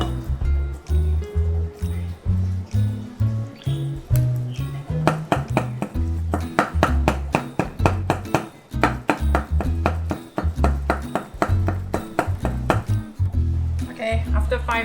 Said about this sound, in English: after 5 minutes of chopping, you can feel it springy